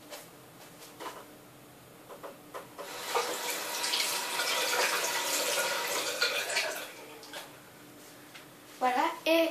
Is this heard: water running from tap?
yes